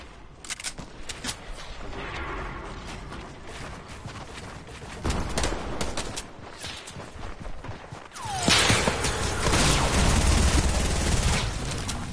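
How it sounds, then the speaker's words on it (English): Gunfire in the video game Fortnite, dense rapid bursts and crackling volleys with whooshes and impacts, growing louder and heavier toward the end. "No, they're shooting it."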